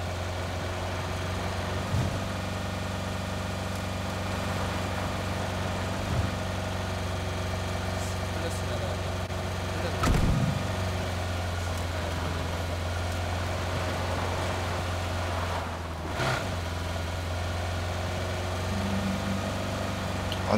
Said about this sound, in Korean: 뭔가 올드한, 진짜 올드한 차 소리.